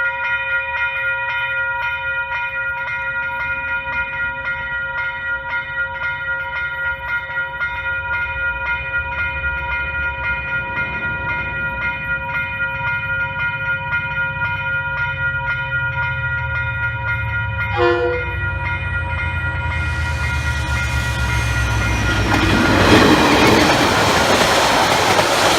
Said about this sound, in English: So yeah, let's just wait for the train.